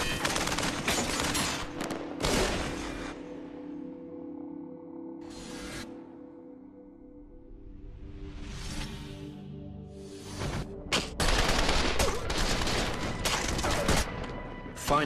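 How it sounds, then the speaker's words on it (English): Dense bursts of automatic gunfire and rifle shots in a North Hollywood shootout reenaction, loud and close, with rattling volleys separated by a quieter lull in the middle before heavy firing resumes. "I proned out, aimed, and continued to fire at the suspect."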